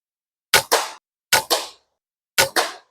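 Three pairs of sharp air rifle shots from an FX Impact M3 or PX100 Achilles fired off a bench rest, each crack followed closely by a second impact report, spaced about a second apart with silence between.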